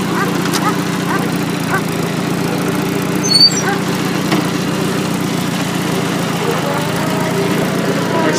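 1953 Farmall Super A tractor engine running in second gear, a steady low chugging drone heard close and continuous, with no speech over it.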